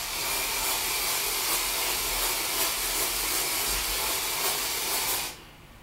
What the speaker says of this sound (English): we're gonna try and remove the shine with some dry shampoo.